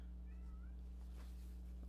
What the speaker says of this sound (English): If you hear Dahlia outside the door, that is my cat crying at the door.